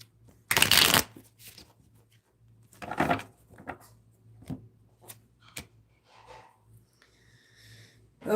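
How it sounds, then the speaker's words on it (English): A tarot card deck is shuffled close up: a loud riffling burst early on, then softer bursts and small handling rustles over a faint steady hum. "one more shuffle in the tarot"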